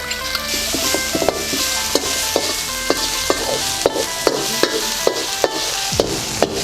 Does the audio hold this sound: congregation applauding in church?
no